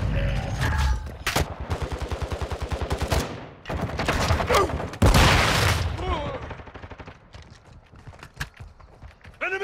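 Call of Duty Modern Warfare multiplayer on PS5 crackles with rapid automatic gunfire in loud rattling bursts, interspersed with single shots and explosions, while in-game radio voices call out over the shooting.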